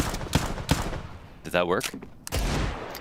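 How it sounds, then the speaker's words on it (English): AK rifle fire penetrating a wall in Counter-Strike on Vertigo during a professional match, several sharp bursts of shots spread through the moment, with a player's voice speaking briefly between them. "Shiro, bring the AK, man. They could wallbang it."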